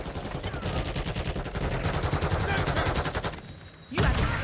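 A Call of Duty firefight brings sustained rapid gunfire, a steady rattle of machine-gun bursts, then a louder heavy blast near the end, with some voice chatter mixed underneath.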